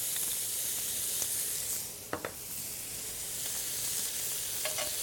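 Garlic sizzles in melted butter in a pan, a steady close hiss with a couple of brief scraping stirs partway through.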